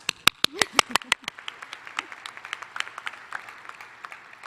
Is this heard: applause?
yes